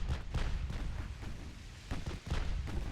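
Naval guns boom repeatedly in the warship battle game Ultimate Admiral Dreadnoughts, with dense, rumbling blasts overlapping one another.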